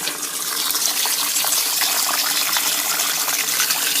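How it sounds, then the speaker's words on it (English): Tap water gushes steadily into the cavity of a turkey being prepped in a home kitchen, a continuous close splashing fill that holds even and loud throughout with no talking. "I'm going to run water inside the bottom part of the cavity."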